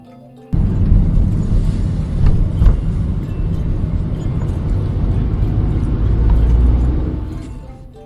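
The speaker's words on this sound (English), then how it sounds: "Look at the truck." A big, heavy truck rumbling past at steady, loud volume for several seconds, its engine noise holding constant before fading away at the end, with no voices.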